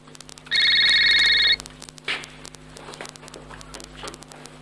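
An old landline telephone rings in one long electronic trill, loud and close in a quiet room, followed by faint shuffling, light tapping and room noise without talk.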